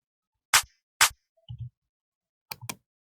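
Sharp layered clap samples in a sparse pattern: two crisp single claps, a soft low double thud, then a quick pair of claps with a low hit, dry and close within an Afrobeat drum beat.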